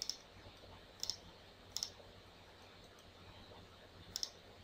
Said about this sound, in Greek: κάνω κλικ έξω